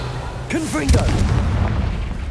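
A fire-spell blast cast in a Harry Potter video game bursts out as one booming impact with a crackling tail, close and loud over ambient game sound, with a voice calling out just before it.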